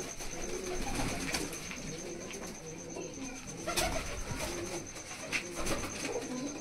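A Malwai pigeon coos softly in short, repeated phrases amid background chatter and ambient noise, with a couple of brief sharper sounds.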